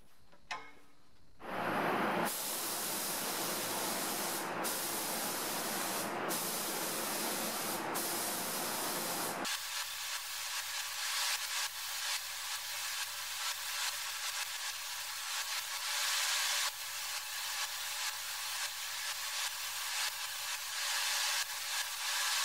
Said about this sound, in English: I'm heading back into the spray booth to add two coats of high build primer